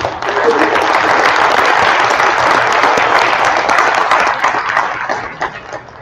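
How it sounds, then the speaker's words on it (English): Applause from the audience at the ACA awards night for the sponsor SeaArk, a loud, sustained crowd clapping that holds steady, then eases and thins toward the end. "please give a round of applause to SeaArk."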